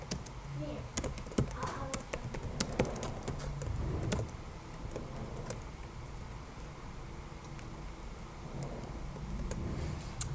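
Computer keyboard keys pressed in a few sharp clicks during spreadsheet data entry, the Shift and Enter keys struck twice, close and crisp over a low room hum with faint background noise between presses.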